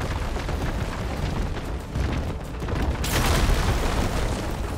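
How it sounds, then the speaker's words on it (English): A large in-game explosion from Horizon Forbidden West, a sustained rumbling boom that swells and brightens partway through, loud and close with no talk over it. "It blew up!"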